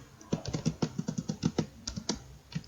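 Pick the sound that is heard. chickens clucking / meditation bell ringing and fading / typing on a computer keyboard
typing on a computer keyboard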